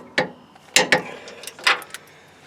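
Ratcheting clicks from a torque wrench snugging 19mm nuts on 17mm control arm bolts of a Nissan Titan, three or four short sharp metallic bursts spaced through a couple of seconds, close and clear with no talk.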